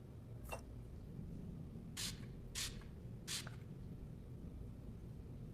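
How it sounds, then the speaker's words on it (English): Four short hissing spray bursts as luminol is sprayed onto a wall in a murder-mystery video game, set against a low steady background hum with no talking. "Anna, spray the wall with luminol"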